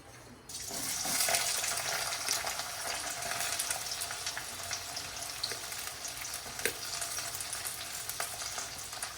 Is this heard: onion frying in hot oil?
yes